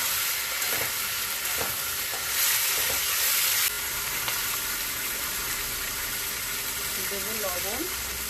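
Chopped vegetables hit a hot pan over an outdoor wood-fired stove and sizzle steadily, with the scrape and clack of a spatula stirring through them and someone speaking over the frying.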